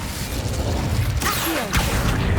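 The Incendio fire spell is cast in the video game Hogwarts Legacy, a loud whooshing burst with crackling and mechanical clatter over a rumbling background, lasting about two seconds.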